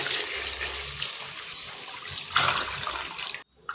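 Water pours steadily into a vessel of coarse rice grits for a Coorg breakfast dish, a continuous close splashing stream that swells briefly near the end before cutting off.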